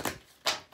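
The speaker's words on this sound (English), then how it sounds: "I'm going to shuffle three times." A tarot card deck is shuffled in two quick, soft riffling bursts with a short pause between them. No voices are heard.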